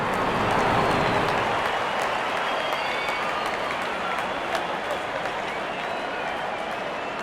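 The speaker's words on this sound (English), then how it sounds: "Crowd on their feet to cheer the moment." A cricket stadium crowd cheers and applauds after a six is struck, a loud sustained roar of clapping and shouting that starts strongest and slowly eases, with a commentator's voice faintly underneath.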